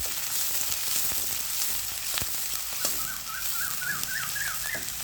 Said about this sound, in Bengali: আর পেঁয়াজটা এখন একসাথে তেলের ভিতরে দিয়ে একটু ভেজে নেব